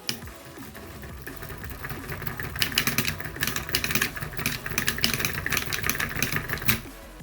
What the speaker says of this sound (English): as soon as it gets up to a little bit of speed, the screws hit the base